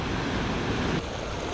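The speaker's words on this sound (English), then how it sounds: "The ocean waves take you away." Ocean surf breaks on Santa Monica beach, a loud, close, continuous roar of churning water mixed with wind buffeting the microphone.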